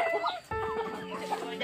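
Chickens with a large rooster at a small homestead deep in a forest, a burst of close, rapid clucking and squawks, with a voice briefly heard alongside.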